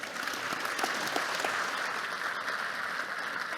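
An audience applauds panel speakers at a logistics sector conference in a steady, sustained burst of clapping that fills the room, with no voices over it.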